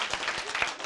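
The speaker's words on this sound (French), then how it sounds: "Applaudissez!" Children applauding in a group at a quiz-style children's show, a short burst of lively, dense clapping with faint voices mixed in.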